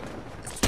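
A gunshot in a shooter video game, a single sudden loud crack that hits hard at the very end after a brief stretch of steady game ambience.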